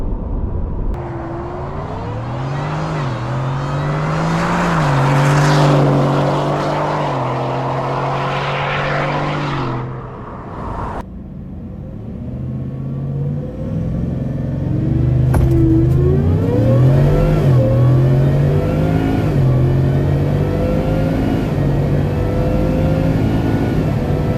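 A Ford F150 pickup street sleeper accelerates hard down a quarter-mile run, its engine roaring loud and close, pitch climbing through the gears with a clear shift around midway, and no talking.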